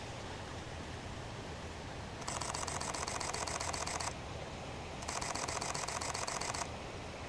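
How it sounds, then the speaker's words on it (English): A Canon R5 fires its mechanical shutter at 12 frames per second in two bursts of rapid, evenly spaced clicks, each lasting about two seconds, close to the microphone over a steady hiss. "That is the 12 frames per second mechanical shutter."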